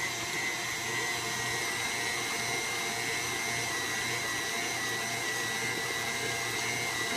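A stand mixer runs steadily, churning Crisco chocolate chip cookie dough in a constant, close motor whir with no breaks or voices.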